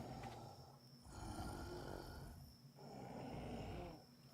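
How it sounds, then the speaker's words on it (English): A knocked-out bear lies in the Ark survival video game, giving off slow, rhythmic snoring breaths, about three long, rasping cycles with brief pauses between them, heard fairly close and alone. "He is knocked out cold. He's snoring kind of."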